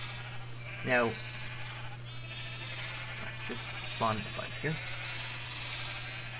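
Sheep bleating in Minecraft, with several short wavering bleats scattered through the clip over a steady game hum. Someone talks over the bleats.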